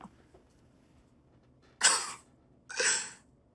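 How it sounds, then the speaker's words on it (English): Two harsh coughs close to the microphone, each a breathy burst about a second apart, with quiet background before them. "I'm coughing."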